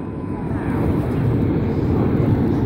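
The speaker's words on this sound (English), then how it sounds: "they're flying an aileron roll manoeuvre" Red Arrows jets performing an aileron roll at the Yeovilton air day display, a steady broad roar of jet engines sustained loud throughout, with no pause or change in level.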